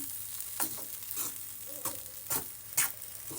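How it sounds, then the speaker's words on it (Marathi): Moong dal halwa stirred with ghee in a pan, a spoon scraping in a few distinct strokes over a soft sizzle, close and fairly quiet with no talking. "या तुपाला आता हळूहळू करून मिक्स करून घ्यायचं आहे"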